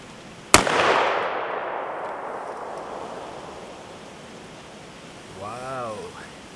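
A Desert Eagle pistol fires a single loud, sharp shot at a paper target, followed by a long reverberating tail that fades slowly; a brief voice comes in near the end.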